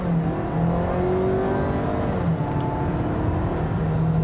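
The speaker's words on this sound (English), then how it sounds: "starting the driving scene off in the brand new Maverick, I'm in the first edition with the 2-liter turbocharged engine" A 2022 Ford Maverick first edition pickup with the 2-liter turbocharged engine accelerates on the road, its engine note rising steadily and heard close from the cabin, with no talking.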